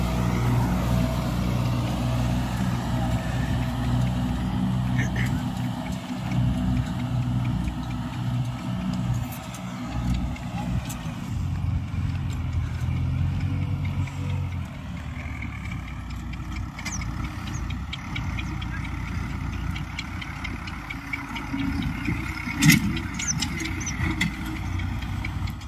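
Holland 5620 tractor engine working after getting stuck in a ditch, a continuous close diesel drone whose pitch and load shift midway, steady and loud with no talk.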